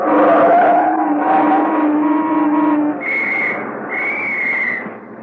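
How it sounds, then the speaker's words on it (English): A police officer's steady tonal whistle blasts sound over a busy traffic rumble, with two shorter, higher whistle notes near the end. "Were you whistling at me, officer?"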